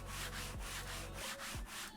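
Computer mouse sliding left and right on an Andromeda Pro mouse pad, giving a steady close scraping rub in repeated sweeps, with a few soft thumps at the turns and no talk.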